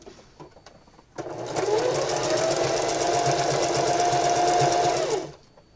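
A sewing machine stitches fabric under the presser foot while sewing pants, starting after a second of near-quiet and running as one steady, loud whir for about four seconds before stopping.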